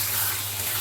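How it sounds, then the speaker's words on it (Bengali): Hot water poured into a pot of mutton curry, a brief steady gushing rush heard up close and fairly loud. "এবারে একটি পাত্রে আমি গরম জল বসিয়ে দিয়েছিলাম, দিয়ে দেব গরম জল"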